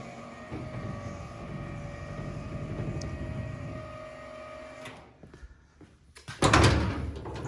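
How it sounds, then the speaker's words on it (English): Wooden bed-floor door on gas struts opening and closing, a low mechanical whirr and hum followed by a soft knock, then a sharp wooden thump as the door shuts, close and fairly loud with no talking. "You can see how fast I can open and close the door."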